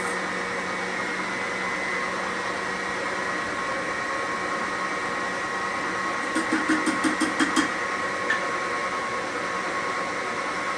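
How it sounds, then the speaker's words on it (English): Electric mixer whipping cheesecake batter for a sugar cookie cheesecake, a steady loud whirring drone throughout, with a short run of rapid clicks near the end. "the whipping process has started"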